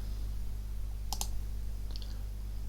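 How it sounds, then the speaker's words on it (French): Two quick button clicks on a Numworks calculator come close together, followed a moment later by a fainter third click, all over a steady low hum with no talking. "je clique une fois pour l'utilisation une seule fois et un deuxième clic pour verrouiller"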